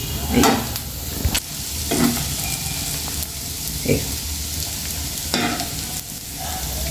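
Egg and onion frying in a pan while being stirred, a steady soft sizzle broken by several distinct scraping strokes of the spoon at irregular intervals.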